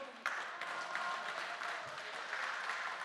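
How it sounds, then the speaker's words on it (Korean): An audience at a health and exercise talk claps in a dense, even round of applause, sustained for a few seconds at a moderate distance. "박수"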